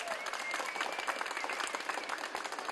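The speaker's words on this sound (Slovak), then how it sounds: "Každý jeden z vás, veľký potlesk." Sustained applause from an audience at a school competition event, a dense, steady wash of clapping hands that holds for the full stretch without letup.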